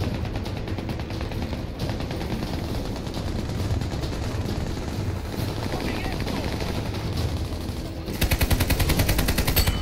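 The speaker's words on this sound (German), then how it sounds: "Jetzt schießt er wieder auf dich." Rapid automatic gunfire from the video game Army of Two rattles on without pause, dense and loud, with a heavier burst near the end. Players talk over it.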